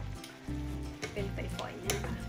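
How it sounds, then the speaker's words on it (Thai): Onion stir-fries in a hot pan, crackling and sizzling continuously while utensils scrape and stir, with a few sharper clatters, for a shrimp and shiitake mushroom stir fry. "ใส่หอมไปเลยค่ะผัดไปสักพัก"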